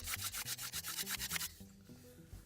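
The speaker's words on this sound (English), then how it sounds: "very slowly, very deliberately, with some downward force, I want to use this spindle like a drill." Wooden spindle twisted back and forth by hand into a fire board, making about ten quick rhythmic scraping rubs, loud and close, before it eases into softer, irregular grinding.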